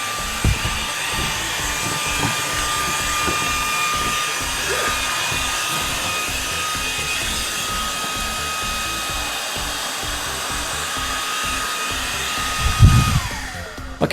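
An Orfeld WB08 cordless vacuum cleaner runs with a steady, loud motor whine and a constant high hum, then the pitch drops near the end as it winds down with a few knocks.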